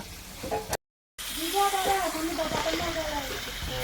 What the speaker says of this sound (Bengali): মাংসটা ফ্রাই হয়ে গেছে, এই খাসির মাংসটা দিয়ে দিলাম।